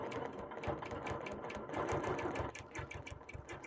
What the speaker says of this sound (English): I'm stitching on all four sides